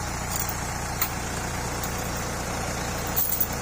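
Steady low rumble of a Kubota M8540 tractor engine hauling logs, with thick tyres, heard as a continuous drone at moderate distance with a few brief knocks near the end.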